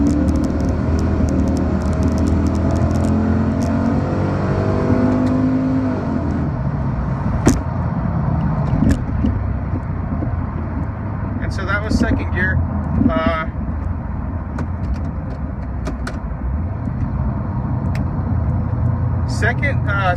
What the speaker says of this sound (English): So here's the 2nd gear.